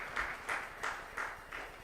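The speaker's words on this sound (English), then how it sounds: "I think you should give us a round of applause." Rhythmic clapping at a launch event, with about six evenly spaced bursts of hands that sound sparse and fairly distant rather than like a full ovation.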